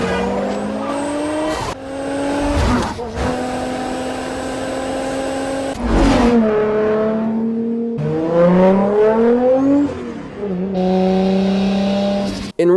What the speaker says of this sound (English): one of the most iconic sounding 2JZs ever